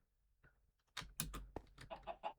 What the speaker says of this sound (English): You can hear those chickens inside, probably.